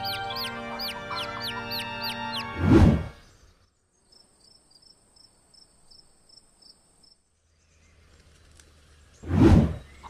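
Cartoon chickens from a farm give a few high, warbling clucks and chirps, with two loud, noisy bursts a few seconds apart and a quiet stretch between.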